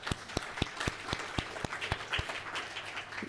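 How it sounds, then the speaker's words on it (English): Audience at a trade conference session applauds, with distinct sharp claps in a fairly regular rhythm near the start that blend into a fuller round of clapping, fairly close and clear. "I think this deserves an applause"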